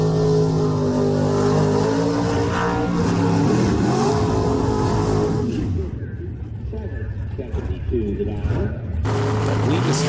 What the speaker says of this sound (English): I'll let him do his over the line burnout first